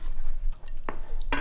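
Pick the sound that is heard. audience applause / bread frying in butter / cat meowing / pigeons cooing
bread frying in butter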